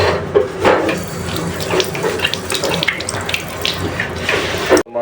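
Water runs continuously from an automatic faucet into a sink during plumbing work, a steady close splashing hiss that continues unbroken before cutting off abruptly at the end.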